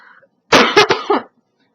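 A single close, loud burst of coughing from a person who has had a lingering cough for weeks, three or four quick hacking pulses in a row, then silence.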